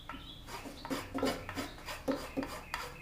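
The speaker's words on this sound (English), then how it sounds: "Just get it as smooth as I can with the file." Repeated scraping and rasping strokes of a metal file smoothing a wooden bow tip, close up, with light clinks between strokes and no talking.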